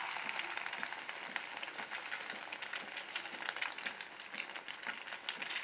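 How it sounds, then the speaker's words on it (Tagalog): Chicken loaf sizzling steadily in a hot frying pan, a dense, continuous crackle of oil with small pops throughout, close and fairly loud with no talking. "Iprito na lang natin yan. Yan, mainit na yung ating kawali."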